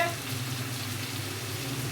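Onions and tomato for radish chutney fry in a pan, a steady, even sizzle of hot oil held close and continuous for a couple of seconds with no other sounds.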